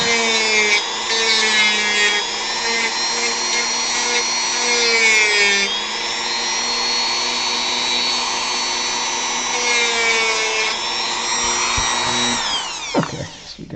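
A power tool with a worn sanding pad whines steadily against carved wood for a sculpted model foot, a loud continuous high-pitched drone with shifting tone that cuts off near the end.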